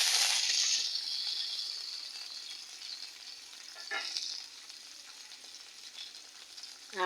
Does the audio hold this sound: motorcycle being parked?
no